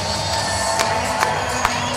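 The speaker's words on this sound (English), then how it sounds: "Give yourselves a round of applause." Stadium crowd at a Savannah Bananas baseball game clapping and cheering in a dense, steady roar, with a few sharper claps standing out, no talk over it.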